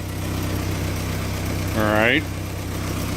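A warmed-up car engine idles at about 600 RPM with a low, steady hum that runs right through, and a person speaks briefly over it near the middle.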